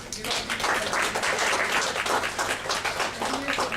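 A seated club audience at a Toastmasters meeting claps together in a dense, steady round of applause that fills the room for several seconds, with a few voices mixed in.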